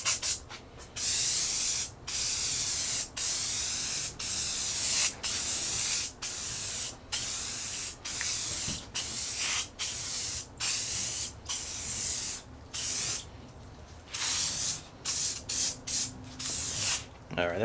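Bed liner coating sprays in repeated bursts of about a second each onto a Peavey 212MS speaker cabinet, a loud close hiss broken by short pauses.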